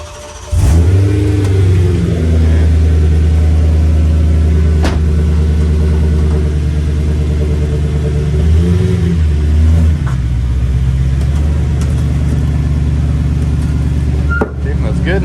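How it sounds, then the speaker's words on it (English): A BMW M3 engine cranks and catches after a brief pause, then settles into a loud, close idle with a few short revs swelling and falling over it. "My lovely assistant is going to start up the car."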